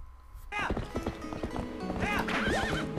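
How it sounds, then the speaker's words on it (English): A horse galloping across a bridge in the Zelda: Twilight Princess video game, with quick clip-clop hoofbeats and a loud neigh, close and prominent, and someone speaking over it. "we're back to riding the horse, and go across the bridge"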